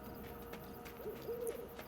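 A soft owl hoot drifts through ambient background noise in the video game Endling - Extinction is Forever, arriving as a brief low call near the middle and end of the stretch.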